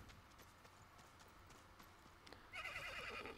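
Rapid clip-clop of hooves from a galloping horse in the video game Realm Royale, steady and close, with a whinny-like burst and louder rustling near the end.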